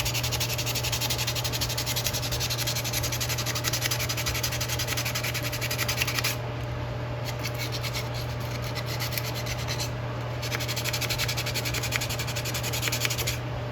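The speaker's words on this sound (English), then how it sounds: "it's a fairly aggressive sandpaper, but at the same time, as you can see, we've already starting to show some silver here, and we're knocking off that rust" Sandpaper of 60 grit rubbing rust off an old metal tool, a steady dry rasping scrub that continues through the whole stretch under a constant low hum, with brief shifts in stroke texture.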